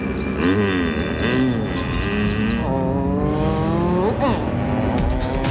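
A Pontiac Sunfire GTO's 120-horsepower engine revs and shifts through gears, rising and falling in pitch as it accelerates, with bird chirps scattered above.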